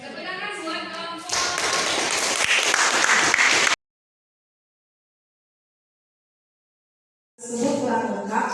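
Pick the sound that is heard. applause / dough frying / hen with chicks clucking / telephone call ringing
applause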